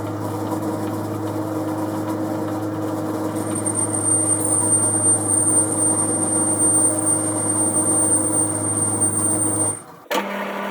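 Metal lathe running while cutting a chuck backplate, a steady motor hum with a thin high whine from the cut, before the machine stops abruptly near the end.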